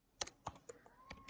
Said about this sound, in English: I'm just typing it out again.